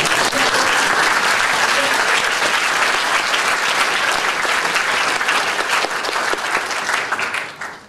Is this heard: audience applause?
yes